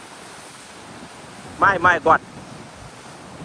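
Sea waves surge steadily onto the shore in a continuous broad wash with wind noise on the microphone, while a voice briefly exclaims in the middle.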